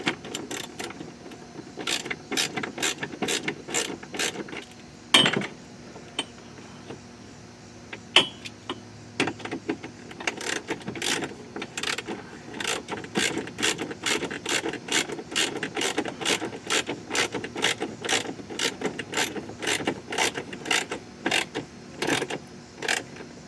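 An Allen wrench rapidly clicks on a door insert bolt on a 2022 CF Moto Z Force 800 Trail, producing dense bursts of sharp, close ratcheting ticks with a few louder knocks, and no talk.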